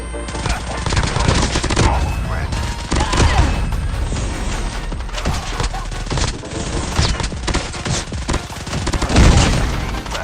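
Rapid gunfire in the Call of Duty Mobile shooter game crackles in dense, near-continuous bursts with heavy thumping shots, loud and close throughout.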